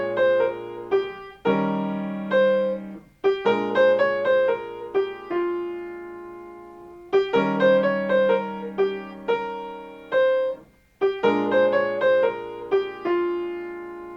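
Melody of a jazz tune played on a keyboard-like instrument, three repeated phrases of plucked notes over chords, each phrase ending on a held tone, clear and unaccompanied by talk.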